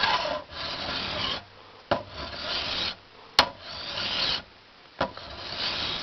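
A fine-cut metal file draws across metal in long, even rasping strokes separated by short pauses. Each pass ends with a light click, and the work sounds close up with no voices.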